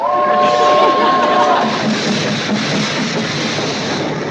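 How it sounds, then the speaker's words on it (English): A loud train rumbles past with a steady roar, a sustained horn tone sounding over it at the start. "Here's the train."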